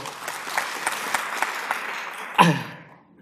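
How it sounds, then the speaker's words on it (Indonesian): Audience applause at a motivational seminar in Indonesia, a short burst of clapping over about two seconds that ends in a sharp louder hit and then fades out quickly. "Tepuk tangan yang paling untuk Anda semua."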